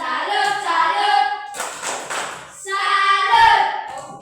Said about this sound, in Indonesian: Tepuk salut dulu untuk kita.